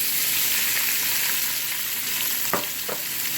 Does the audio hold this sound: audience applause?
no